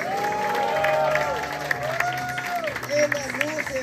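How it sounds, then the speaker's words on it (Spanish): Clapping and some cheering from an audience at an evening stage show, heard under loud music with sustained tones, so the applause sits partly masked behind the sound system. "aplauso para el tremendo evento de esta noche"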